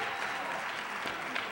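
An audience at a conference gives speaker Lawrence Hamm another round of applause, a dense, even wash of clapping across the room.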